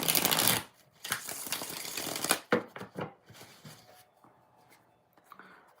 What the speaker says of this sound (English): All right, LZ, 2 more shuffles.